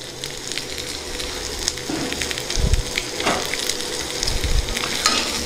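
A couple of dried red chillies sizzle loudly in hot oil, a close crackling hiss with a few low thumps and bumps of a pan and spoon, no speech.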